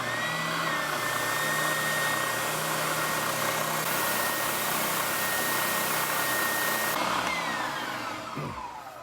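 A spindle sander fitted with a 1.25-inch, 80-grit drum shapes a guitar headstock, giving a loud, steady whirring drone with grinding contact noise that winds down near the end; no one speaks.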